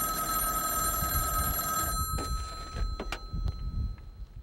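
Old bell-type telephone rings loudly at a remote phone booth in the Mojave desert, a sustained metallic ring that cuts off, followed by a few clunks and knocks as the receiver is handled.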